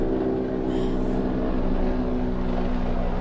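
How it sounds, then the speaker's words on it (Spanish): A helicopter passing overhead, heard as a steady, droning low rumble with humming tones that holds evenly throughout, fairly loud and continuous with no talking over it. "Está pasando un helicóptero, espero que no interrumpa mucho mi llamada."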